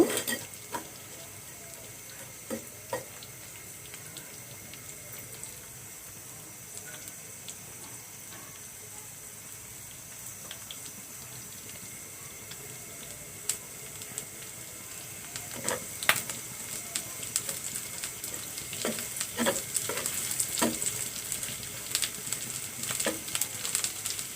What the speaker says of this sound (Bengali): কাঁচামরিচ রসুন ও পেঁয়াজ দিয়ে দিলাম কাটানো এবং সরিষার তেল দিয়ে দিয়েছি আমি এখন একটু হালকা লাল করে নিব